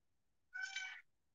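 A single house cat's meow, clear and fairly close, a short half-second call in an otherwise quiet room with no talking.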